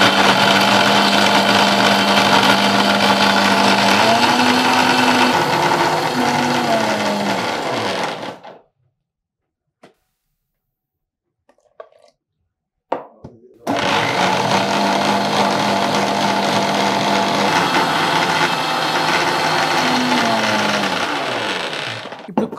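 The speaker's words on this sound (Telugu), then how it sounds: "కొంచెం కొంచెం ఒక్కొక్కసారి వేస్తూ మనం దీన్ని మిక్సీ చేసేస్తే" A mixer grinder blends juice in its jar, its loud, steady motor whine running for several seconds, stopping briefly with a few small knocks, then starting again just as strongly.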